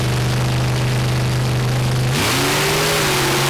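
Monster truck engines race at Mansfield Motor Speedway, with a loud, continuous, steady engine drone that shifts up in pitch partway through as revs climb, heard alone without talk.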